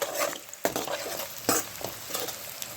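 Chopped garlic sizzles in hot ghee in a pan for red sauce pasta, a steady quiet frying hiss broken by a few sharp scraping stirs of a spoon.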